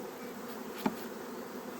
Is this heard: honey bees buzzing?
yes